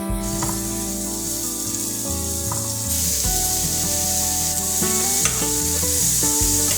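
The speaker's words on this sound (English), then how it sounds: "Going to grill our zucchini." Zucchini sizzles on a grill, a continuous high hiss with occasional light clinks, mostly overlaid by prominent background music.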